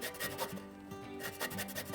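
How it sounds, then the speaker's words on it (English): A pre-washed lemon is dragged and rotated across a grater to zest it, giving quick rhythmic rasping strokes, close and fairly quiet, each pass a short scratchy burst. "I'm going to get some of the zest off this pre-washed lemon"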